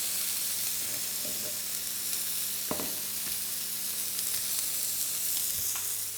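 A pork chop fries in a very hot pan on a small gas stove, giving a steady, dense sizzle throughout with occasional small pops and crackles, close and unbroken.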